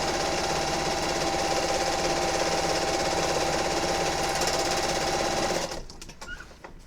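A sewing machine stitching along the bottom edge of a quilt, a fast steady mechanical hum and chatter running close and loud, then slowing and stopping near the end.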